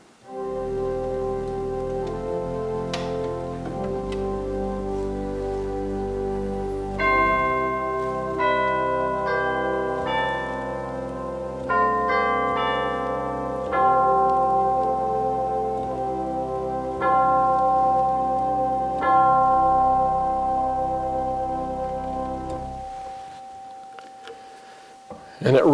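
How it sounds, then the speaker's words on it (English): The chimes percussion stop of a fairly large pipe organ rings out bell-like tones in a played sequence over sustained organ chords, loud and resonant, then fades out at the end. "We have one percussion stop, and that's the chimes."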